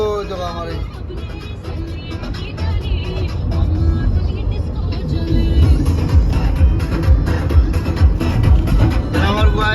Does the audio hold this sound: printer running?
no